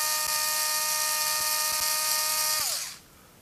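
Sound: Hoto Li-ion electric screwdriver Lite spinning

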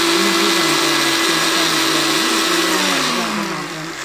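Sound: mixer grinder blending green rice paste

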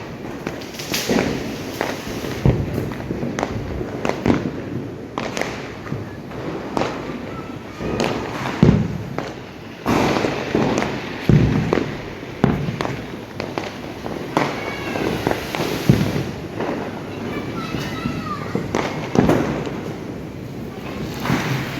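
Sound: Diwali fireworks and firecrackers going off

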